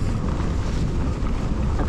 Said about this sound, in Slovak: Relatívne fúka vietor.